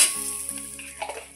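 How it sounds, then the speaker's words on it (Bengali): Two dried red chillies hit hot oil in a kadai with a quick, bright sizzle that crackles and fades within about a second and a half. "দিচ্ছি দুটো শুকনো লঙ্কা"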